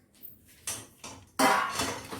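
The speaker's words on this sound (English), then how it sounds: "This we go, and to give a good stir" Poha snack mixture stirred and tossed with a utensil, giving a few close scraping, rattling bursts of dry crispy pieces against a dish, the last one longest and loudest.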